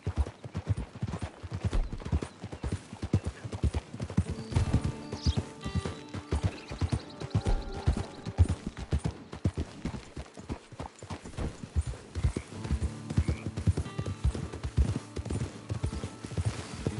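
In Red Dead Redemption 2, a horse's hooves clip-clop in a steady, continuous walking rhythm, with faint background game sounds and an occasional soft snort.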